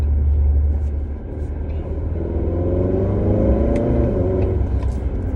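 A Kia K5 GT fitted with an aftermarket lower engine mount accelerates in third gear, a steady close engine drone rising in pitch from inside the cabin.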